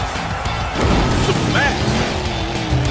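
Monster trucks at a Monster Jam show slam down and smash, a loud crashing impact with rumbling engines and crowd noise, under an excited announcer's voice.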